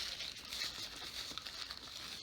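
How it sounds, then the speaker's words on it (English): Paper padding being pulled out of a watch box, a soft continuous crinkling and rustling, close and quiet, with no pauses. "Let's remove this paper here."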